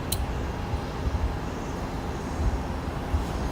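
A Portland-arrival airliner approaches Boise airport, heard as a faint, distant engine rumble with a broad steady wash that swells gently in places. No one speaks.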